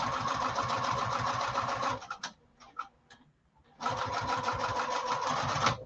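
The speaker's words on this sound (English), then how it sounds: "And I'm going to keep sewing. And I back tack, and then I just keep sewing." A sewing machine stitches a fabric lining in steady, rapid bursts, pausing briefly in the middle with a few scattered clicks before running fast and loud again.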